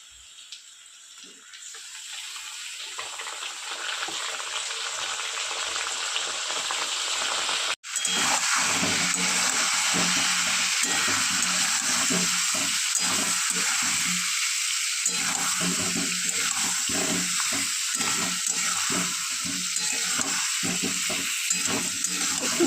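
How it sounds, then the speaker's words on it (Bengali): Onions and tomatoes fry in hot oil in a pan for a small-potato dum, a loud continuous sizzle close by that jumps sharply louder as ingredients go in, then hisses and crackles steadily with stirring, no talking. "ভাজা ভাজা করে নেব"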